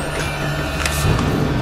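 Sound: ghost tractor engine in video game Alan Wake Remastered

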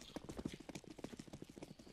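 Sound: horse hooves clip-clop in a video game

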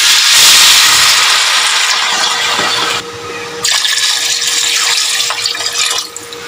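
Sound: water poured into a pot of lamb trotters to simmer

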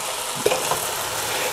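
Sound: tomatoes cooking in a pot while being stirred

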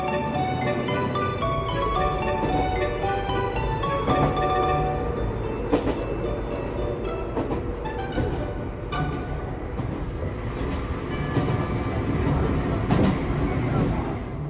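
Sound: single-car electric train running

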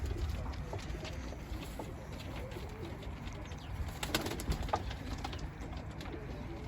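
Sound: pigeons cooing in a loft

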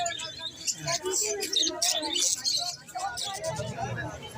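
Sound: quails calling at a pet market

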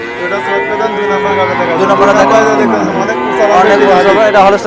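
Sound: Friesian cow mooing

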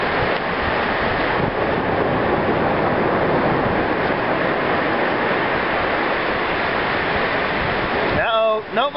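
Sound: ocean waves at Gulf Shores beach

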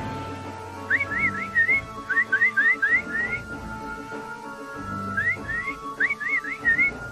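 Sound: cartoon monkeys whistling

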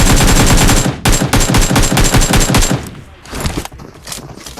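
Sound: gunfire in PUBG Mobile video game

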